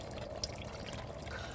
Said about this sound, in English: put about 2 cans fulls of this water into this pot